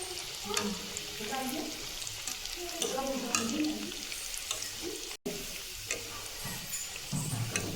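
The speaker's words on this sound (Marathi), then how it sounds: "खोबरं नॉर्मल चॉकलेटी वर तळून घ्यायचं" Grated coconut frying in oil for Diwali chivda, a close crackling sizzle with stirring scrapes, fairly quiet, with some background voice and a brief dropout midway.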